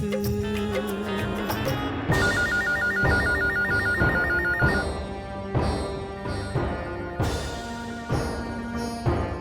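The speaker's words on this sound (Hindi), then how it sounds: "ठीक है, मैं फोन ट्राई करके देखता हूँ।" A telephone rings out repeatedly during an unanswered call attempt, a bright electronic ringtone pattern repeating in regular bursts for several seconds with no talking over it.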